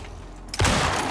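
A single loud gunshot fired at a cougar in the open-world survival game Icarus, a sharp burst after a quiet mechanical lead-in, followed by a short ringing decay.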